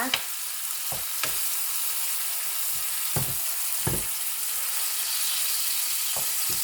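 Oyster mushrooms and sweet mushrooms fry in a pan with a steady close sizzle, broken by several sharp scrapes and clacks of stirring.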